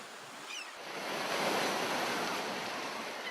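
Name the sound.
sea waves in a Kiarostami film soundtrack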